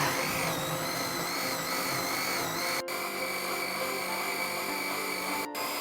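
An electric blender whirs continuously at its first speed setting while blending pandan juice, a loud, steady motor drone with a faint wavering pitch and two brief dropouts, and no talking.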